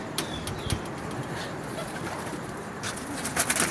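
Soft, low coos from flying pigeons in Pakistan repeat quietly in the background at night, with light rustling and a brief flutter of wings nearby.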